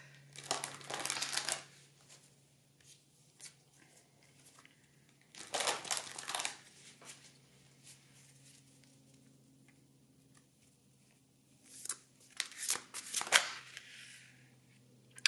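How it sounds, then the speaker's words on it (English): Oracle cards are shuffled close by in three quiet bursts of riffling and crinkling paper, with a soft steady hum and stretches of near-silence between the bursts. "Let's pull some oracle cards."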